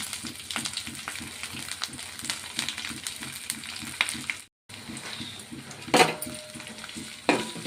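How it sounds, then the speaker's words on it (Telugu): Ginger pieces and green chilli frying in a hot oil tempering of urad dal, cumin and mustard seeds for tomato bath, with steady sizzling and stirring, a brief pause, then sharp clinks of a utensil against the pan. "మినపప్పు జీలకర్ర ఆవాలు వేసుకున్నాను అవి కొంచెం ఆడిన తర్వాత అల్లం ముక్కలు వేసుకుందాం మిర్చి వేసుకుందాం"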